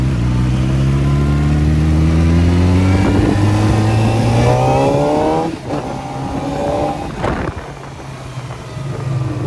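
A CFmoto Voom 500SR sport bike's inline-4 engine revs hard and close, its rising tone climbing through the gears, then dips briefly before surging again in a loud, continuous run.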